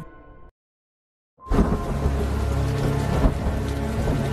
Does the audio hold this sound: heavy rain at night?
yes